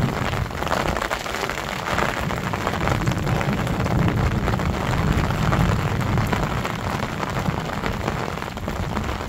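Steady rain falls on a village, a dense, even hiss of drops that stays constant for several seconds, with no voices.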